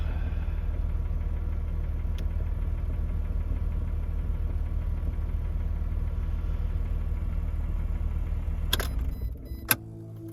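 Jeep engine idling close by, a steady low rumble with a faint ticking knock running throughout, ending with a brief clatter and a sharp click near the end.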